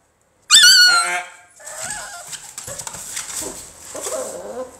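American Bully puppy letting out a loud, high-pitched whining yelp near the start, followed by quieter whimpers and squeaks mixed with shuffling sounds.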